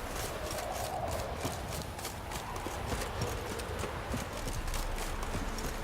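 Horse hooves clip-clop in a steady, even rhythm in The Witcher 3, a ridden horse trotting at moderate volume over a continuous outdoor ambience.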